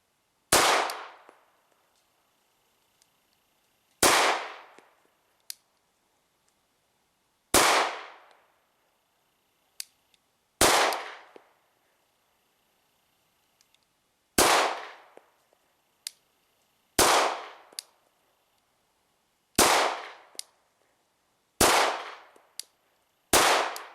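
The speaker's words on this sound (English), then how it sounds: "And even somebody with a smaller frame like Mrs. Bear was able to comfortably and accurately shoot this pistol." A Sig Sauer P226 R Nitron pistol fires about ten sharp, loud shots at a range, spaced a few seconds apart, each followed by a short fading echo and faint clinks of falling brass.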